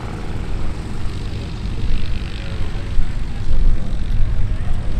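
Propeller airplane arriving to land at EAA AirVenture Oshkosh, a steady broadband engine drone that swells slightly toward the end, with a voice talking over it.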